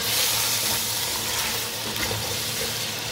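Chicken frying in a pan, a dense, loud, continuous sizzle with a slight hiss, close up and steady, with no talk.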